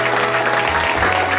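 A crowd at a sports hall of fame ceremony in Barranquitas breaks into loud, dense applause, a continuous burst of clapping that fills the short moment.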